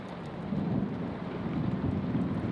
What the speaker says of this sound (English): Watch as the raindrops create tiny streams dancing down the glass.